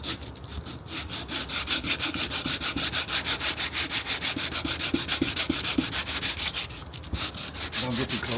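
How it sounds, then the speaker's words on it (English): A fiberglass patch on a boat hull being hand-sanded smooth, a fast, steady back-and-forth scraping rhythm that is loud and close, with one short pause near the end. "I'm gonna sand this down a little bit, and we're gonna sand it down until we get it smooth"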